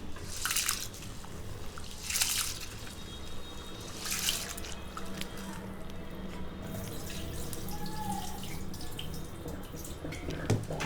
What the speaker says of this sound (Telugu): ఇంకా కొంచెం వాటర్ పోసుకునండి నానబెట్టుకుందాం